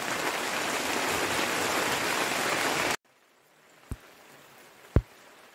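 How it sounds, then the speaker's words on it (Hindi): Steady rain falls outdoors onto wet soil for about three seconds as a dense, even hiss, then cuts off to near quiet broken by two faint isolated knocks. "लेकिन बारिश हो रही है ना"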